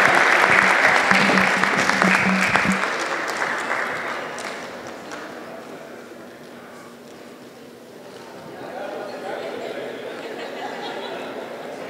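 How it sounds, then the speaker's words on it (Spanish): Audience applause for a female moderator at a political panel discussion on women's challenges: dense, loud clapping that gradually thins and fades, with scattered crowd chatter beneath it. "Un fuerte aplauso para nuestra moderadora, Idalia Carrillo."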